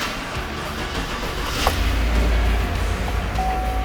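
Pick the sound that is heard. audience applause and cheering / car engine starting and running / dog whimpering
car engine starting and running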